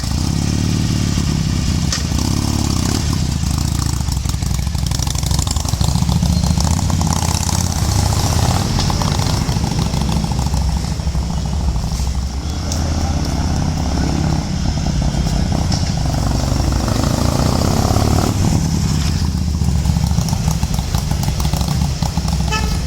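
A Harley-Davidson motorcycle rides slowly past, its loud, steady engine rumble swelling and fading a little over a long stretch, close by and filling the whole scene without talk.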